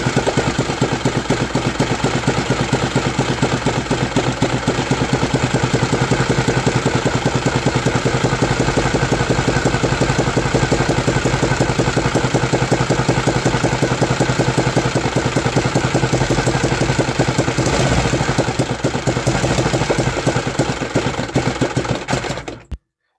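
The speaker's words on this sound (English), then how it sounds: "the engine definitely sounds healthy and works as it should" A third-generation 3D-printed engine runs continuously for about 23 seconds, a loud, close, dense mechanical chugging with rapid, even firing pulses, then cuts off abruptly at the end.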